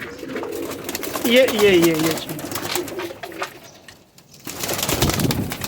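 Pigeons coo in soft, throaty warbles at close range in a breeder's loft, one clear rolling coo standing out early, while someone talks over them.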